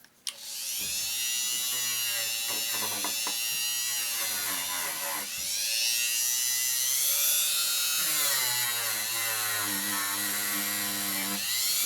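An old brass wire wheel spinning against old rusty metal on a rat rod project, a loud whining grind that rises and falls in pitch as pressure changes, running close and continuously with no talk.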